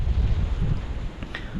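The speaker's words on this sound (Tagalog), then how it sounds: "Hangin." Wind buffets a microphone outdoors, a loud low rumbling roar that lasts under two seconds with no voices.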